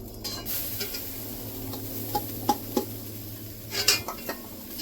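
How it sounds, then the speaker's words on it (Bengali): Jackfruit seeds frying in butter in a wok, with a soft continuous sizzle under repeated scraping and clinking stirs of a utensil against the pan, close and moderately quiet. "এবার কাঁঠালের বিচিটা ভেজে নেব।"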